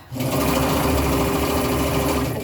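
Sewing machine running steadily as it back-stitches a seam on an upcycled hoodie, a close, loud continuous mechanical whir with a rapid stitching rhythm and no talking.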